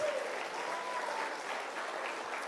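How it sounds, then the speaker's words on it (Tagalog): A church congregation applauds loudly in praise, a steady wash of many hands clapping with no voices over it. "Palakpakan natin ang Panginoon na malakas."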